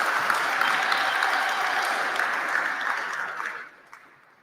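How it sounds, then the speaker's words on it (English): Audience at a presidential benefit gala in New York gives a round of applause, dense steady clapping that holds evenly, then fades out quickly near the end. "A round of applause for Dr. Kajila."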